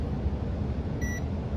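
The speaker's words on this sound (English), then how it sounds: "So you hold your red or input lead to the wire, and then see if it beeps" A multimeter gives a single short continuity beep as its lead touches a wire on a PS/2 connector bracket. The clear, steady tone lasts a fraction of a second over a constant low background hum.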